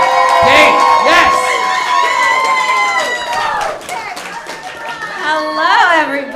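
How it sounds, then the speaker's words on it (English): Comedy club audience at a pro-am stand-up night cheering and clapping as a comedian is brought on stage, with shouts and whoops over loud applause and a host's voice over the crowd. "A round of applause, please, for Kate Mock Elliott."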